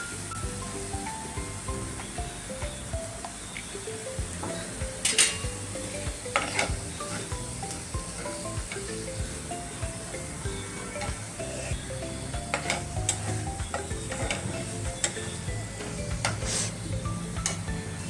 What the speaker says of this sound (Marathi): आता ह्याच्यामध्ये हे आपण वाटण काढलेलं ते भाजून घेऊ.